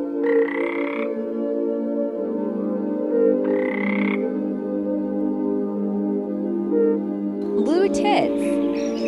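A European fire-bellied toad calls, giving two separate short, resonant croaks several seconds apart over a steady low chorus, with a brief burst of other chatter near the end.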